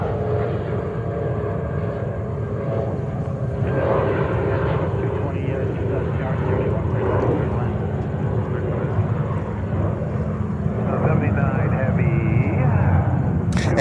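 A JetBlue Airbus A321neo long range arriving at JFK from Dublin, a steady loud jet engine roar that holds throughout and swells slightly near the end, with people talking underneath.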